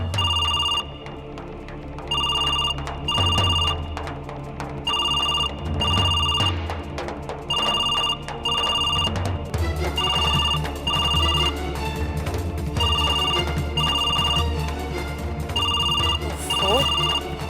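A telephone bell rings in repeated bursts over a steady musical background, loud and fairly close, continuing for the whole stretch.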